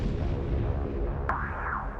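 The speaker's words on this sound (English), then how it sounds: "As the plane plows through the building, there are multiple explosions," Multiple rapid explosions as a plane plows through the Pentagon's ground floor, a loud continuous rumbling blast with a sharp burst partway through, sustained throughout with no voices.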